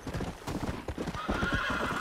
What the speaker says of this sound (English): Yeah, these horses are fast